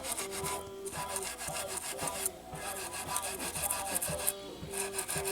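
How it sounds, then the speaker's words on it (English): Continuous rhythmic rubbing strokes on a Hamer Slammer guitar being polished, a close, steady back-and-forth swishing with brief pauses between passes. "I'm not digging into it. I'm just rubbing it across, just rubbing it."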